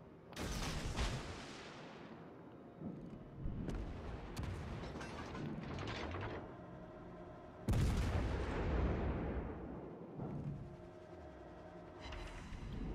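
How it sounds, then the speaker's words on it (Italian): Rapid bursts of video-game gunfire shooting into smoke, loud and close, with sharp cracks and booming blasts arriving in clusters across the whole stretch, no voices. "Stia sparando nel fumo, li prendiamo."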